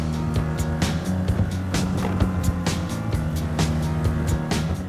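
Honda Navi scooter with a 109cc engine idling and running steadily up close, a continuous low mechanical hum with rhythmic pulsing and periodic sharper clicks throughout.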